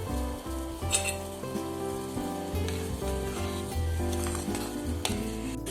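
Dried ginger powder herbal remedy for colds bubbling in a pot, a steady close sizzling boil with faint clinks of a utensil throughout, no voices.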